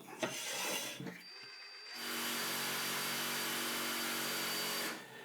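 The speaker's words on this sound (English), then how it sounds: "I'm going to use a 10mm bit drilling into my countertop." A short grinding burst, a pause, then a sustained steady drilling drone as a 10mm bit drills into a hard countertop, cutting off near the end.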